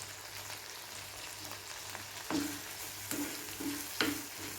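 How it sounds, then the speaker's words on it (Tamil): Tomatoes sautéing in a pan for turkey berry pachadi, a steady soft sizzle with several sharper scraping stirs of a spoon against the pan, close and alone without talk. "இப்போ தக்காளி நல்லா வதக்கிக்குவோம்"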